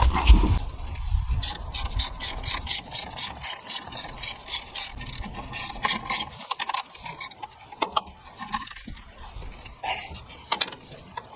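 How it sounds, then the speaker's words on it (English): Rapid ratchet clicking comes in quick bursts while removing fasteners on a 2019+ Mercedes Sprinter van, pausing now and then between runs, close up, with scraping and clinking of metal parts. "I'm actually just going to take these two fasteners off"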